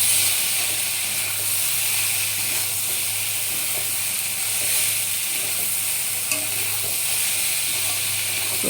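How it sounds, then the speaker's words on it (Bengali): Soybean dish sizzling loudly and steadily in a hot pan as tomato sauce is added, a dense continuous frying hiss close up with no talk. "টমেটোর সস দিয়ে দেবো"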